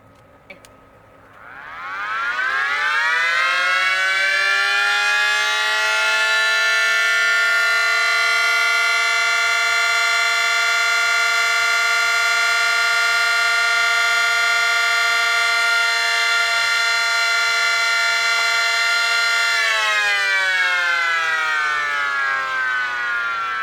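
Patriotic Mini 3T22 and Cyclone outdoor warning sirens sounding together in an outdoor test, winding up to a loud, sustained multi-tone wail, holding steady, then beginning to wind down.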